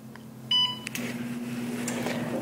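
An oven beeps as it is set to preheat to 400 degrees for cooking cast iron lemon chicken and orzo: a short, bright electronic tone, close and clear, followed by low kitchen hum and faint clatter.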